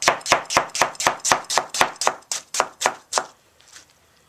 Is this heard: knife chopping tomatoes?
yes